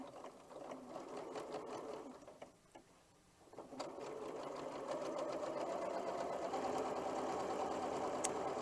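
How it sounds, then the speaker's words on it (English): Sewing machine stitching a quarter-inch seam, a steady close mechanical whir with fast rhythmic ticking that pauses briefly in the middle and then resumes louder and continuous. "bringing them to the machine and sewing a 1/4 inch seam allowance"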